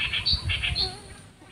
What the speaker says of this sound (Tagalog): Ano, may mga ibon na...